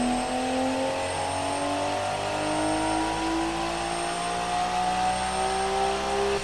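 A car engine in the Automation driving game revs on a test track: a continuous, close, droning tone that climbs steadily in pitch as the revs rise, heard alone.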